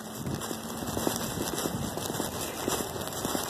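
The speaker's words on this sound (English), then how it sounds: "other than the pitter-patter of rain right now, because it's lightly drizzling" Light drizzle patters steadily on surfaces outdoors, a soft continuous hiss of scattered drops with no talking.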